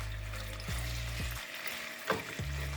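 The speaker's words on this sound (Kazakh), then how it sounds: "Алдымен ыдысымызға күнбағыс майын құйып, үстіне туралған тауық етін салатын боламыз" Chopped chicken pieces frying in sunflower oil in a pan, giving a steady close sizzle with a few soft stirring knocks, no voices.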